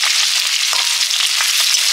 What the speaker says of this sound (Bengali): ডাল, চিংড়ি মাছগুলো একটু ভেজে নিচ্ছি